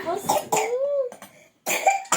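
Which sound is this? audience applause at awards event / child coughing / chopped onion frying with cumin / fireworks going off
child coughing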